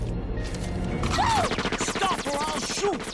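Cartoon gunfire from a Futurama episode bursts out in a rapid, dense clatter of shots and impacts, loud and continuous, mixed with shouting voices and layered effects.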